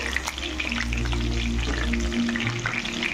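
Pieces of chicken for chilli chicken fry in hot oil with a dense, steady crackling sizzle, loud and close, accompanied by a low rumbling hum and occasional stirring clatter, with no talking.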